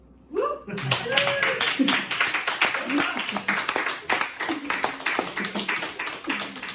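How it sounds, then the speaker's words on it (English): Applause at an open mic night starts suddenly and runs steadily, with many distinct hand claps in a brisk, dense rhythm close by, plus a brief voice at the start and light chatter and laughter underneath. "Pause for applause"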